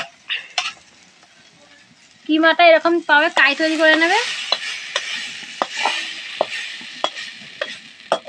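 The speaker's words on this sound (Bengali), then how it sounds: "কিমাটা দিয়ে কিছুক্ষণ ধরে কষিয়ে নেবো ভালো করে।" Chicken mince being stir-fried in a wok for chicken tikka chaat, with a steady sizzle and scraping stirs under a voice speaking over much of it.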